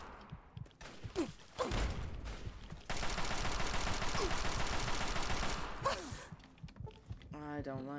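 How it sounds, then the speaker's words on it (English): Gunfire aimed at the player in Fallout 3, with a few scattered shots followed by a sustained stretch of rapid automatic fire, mid-distance, and game sounds and a voice in the background. "Who's shooting me?"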